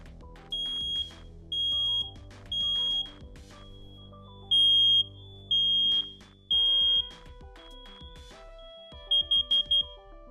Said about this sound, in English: if it's the 3 long ones, it's going to be smoke detector